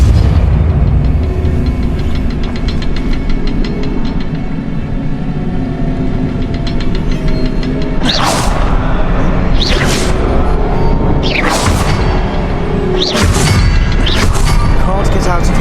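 Confringo blasting spells go off in the Hogwarts Legacy video game, four sharp booming bursts spaced a second or two apart in the second half over a dense, busy game soundscape.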